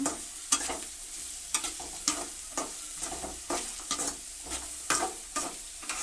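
Onions fry and sizzle in a pan for a lamb dish, with a steady hiss broken by repeated scraping stir strokes at an even rhythm, close and moderately loud, with no voices.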